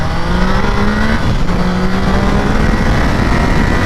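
A 2022 Triumph Tiger Sport 660 motorcycle engine revs and accelerates loudly up close, its pitch climbing through a gear, briefly dropping at a shift, then rising again.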